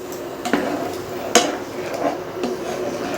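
Onions being stirred in a metal pan with asafoetida while kadhi pakodi is cooked at home, sounding as a few sharp scraping clinks of a spoon against the pan over a soft sizzling hiss.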